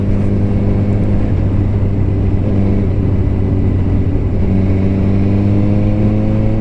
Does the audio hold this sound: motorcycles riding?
yes